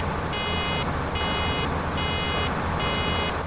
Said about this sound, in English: That buzzer is to let me know I'm almost full.